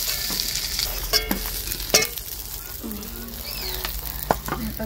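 Fish heads sizzling in oil in a pan, a steady frying hiss with occasional clinks and scrapes of a utensil, close and fairly loud.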